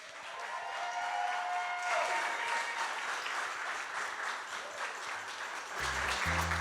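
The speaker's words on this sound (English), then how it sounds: "round of applause for our best woman" Wedding guests at The Grand in Totowa, New Jersey applaud after the best woman's toast, a broad, sustained wash of clapping from a large room, moderately distant and steady throughout.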